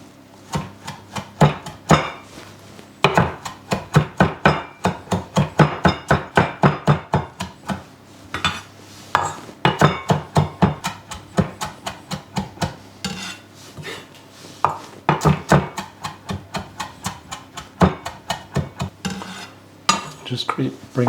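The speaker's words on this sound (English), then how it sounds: "Whenever I'm chopping parsley" A knife chopping washed parsley on a board, long runs of fast, crisp rhythmic chops with brief pauses between bursts, close and clear.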